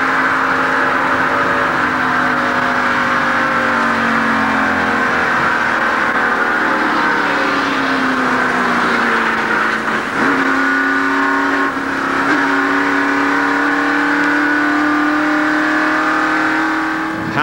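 NASCAR stock cars racing at Talladega in the 1989 Winston 500, a loud continuous engine roar from a dense pack of cars, pitch sliding down and back up as they pass, with no talk.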